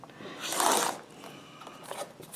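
A rotary cutter slices a 1.5-inch strip of quilting fabric in a quick, soft, swishing pass up close, followed by faint handling rustles.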